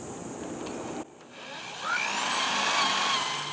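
A power drill bores a pilot hole in a wooden pergola beam for an anchor, a whirring motor that briefly cuts out and then rises again into a steady, close, high-pitched grinding whine.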